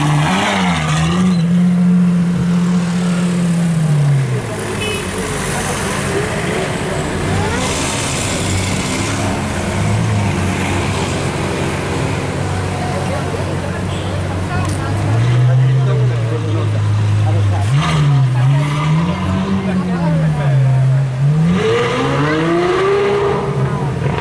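Lamborghini Aventador 50th Anniversary supercar starting up on a street in Cannes, its engine revving loudly in rising and falling sweeps, with voices talking nearby.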